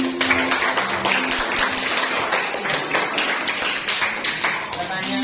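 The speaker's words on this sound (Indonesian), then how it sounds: "Kita kasih aplaus dulu terus dulu pada Mbak Hendra." Audience applause for a question at a classroom teaching session: dense, steady clapping from a group throughout, with a voice speaking over the clapping at times.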